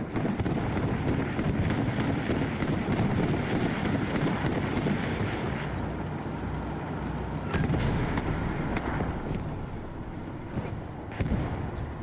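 Heavy artillery in the World War II shooter Hell Let Loose: a continuous rumbling roar of distant shelling with dull booms and occasional sharper cracks, dense and steady across the whole stretch.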